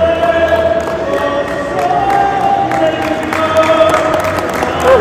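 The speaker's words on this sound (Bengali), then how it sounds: "সবাই হাততালি দিচ্ছে।" A group of people clap together during a sing-along boat ride, the steady patter of hands running throughout beneath a sustained singing voice and general crowd noise.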